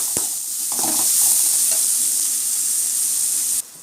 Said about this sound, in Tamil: இப்போ எண்ணெய் நல்லா சூடாயிடுச்சு நம்ம வெங்காயம் போட்டுக்கலாம் வெங்காயம் நல்லா வதக்க விட்டுக்கலாம்